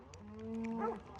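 A cow on a grazing farm gives a single close, low moo lasting about a second. The moo rises slightly in pitch before it fades.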